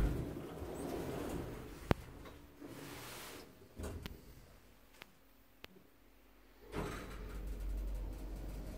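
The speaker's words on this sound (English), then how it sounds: "Door doesn't sound too healthy." A door on an Orona hydraulic lift in a university building in Galway, in unhealthy condition, slides with a rough scraping rumble, then sharp clicks and thuds before a final sliding rush.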